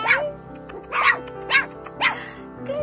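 Four-week-old mini goldendoodle puppies yip outdoors on their first time outside, giving four clear, high, quavering yips in a quick, uneven series close by.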